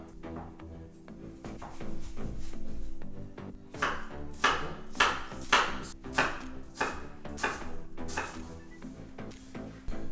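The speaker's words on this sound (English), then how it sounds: "red onion, and we're going to dice this" A knife dices a red onion on a cutting board, giving a run of quick, crisp chops that grows busier partway through, with soft background music underneath and no talking.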